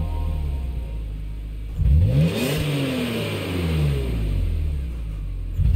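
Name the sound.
BMW engine revving in Gran Turismo 7 video game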